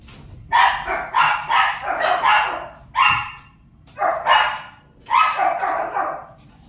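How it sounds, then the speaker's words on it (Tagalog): A dog barks in repeated loud, close bursts, clusters of several sharp barks each, separated by short pauses. "Naingay ang aso."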